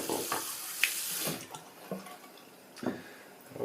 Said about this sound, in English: Gonna rinse this off real quick.